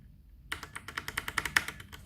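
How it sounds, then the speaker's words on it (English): Typing on a VortexSeries VX5 RGB 60% mechanical keyboard with Outemu Brown switches: a quick run of about fifteen crisp, close keystrokes after half a second of near silence, varying from soft to firmer hits. "Now we're going to move forward to how the keys sound with the Outemu Brown"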